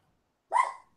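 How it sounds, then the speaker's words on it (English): A single short dog bark or yelp, clear and fairly close, standing alone against near silence. "It's mad. It's barking at you."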